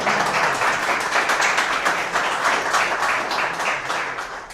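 Sustained audience applause at a Laravel developer meetup, dense steady clapping from many hands filling the room without a break.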